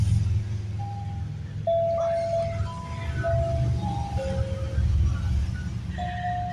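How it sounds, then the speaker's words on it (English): Road traffic near the Blue Ridge Parkway in western North Carolina, a low steady rumble of passing vehicles with faint tonal whines and clinks drifting over it, no voices. "And as you can hear, the traffic is increasing."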